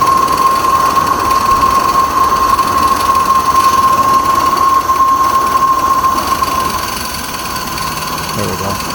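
Live steam model locomotive being steamed up and run, a continuous hissing, whining tone with rapid mechanical clatter underneath, close and fairly loud, easing off toward the end.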